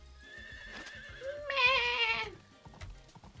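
A horse neighs in the Story of Seasons: Pioneer of Olive Town farming game, one loud falling whinny near the middle of the clip, with soft hoof clip-clops before and after and no talk.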